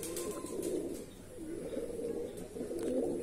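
Andhra Madrasi pigeons cooing steadily and close by, soft low rolling coos repeating through the whole stretch with faint chirps above.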